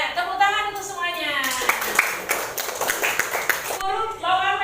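A classroom full of pupils clapping together for everyone, a dense burst of brisk handclaps lasting a couple of seconds, framed by an adult voice speaking before and after.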